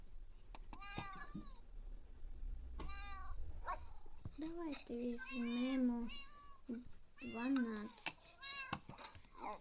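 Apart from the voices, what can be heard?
kittens meowing in a video game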